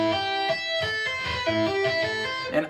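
Electric guitar finger-tapping pattern of tapped notes with hammer-ons and pull-offs across strings, a quick, even run of clear sustained notes played alone.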